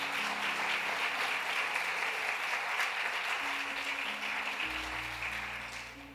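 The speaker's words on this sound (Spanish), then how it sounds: "Dele ese aplauso fuerte al Señor." Loud, sustained applause from a church congregation fills the space steadily for about six seconds, with a low organ or keyboard tone entering underneath toward the end.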